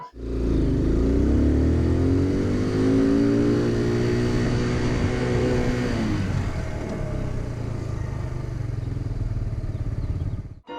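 A motorcycle accelerates to about 20 mph with rising engine revs, then brakes hard for an emergency stop with the rear wheel locking, the engine settling to a steady idle afterward, close and loud with no talk.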